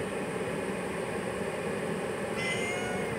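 A cat meows inside a moving car, a faint plaintive call rising briefly over steady road and engine noise.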